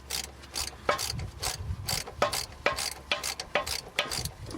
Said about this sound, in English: I usually ratchet it down until it's snug, and then I'll use the wrench to finish it up.